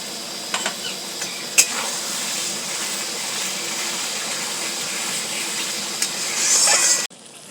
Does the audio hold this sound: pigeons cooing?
no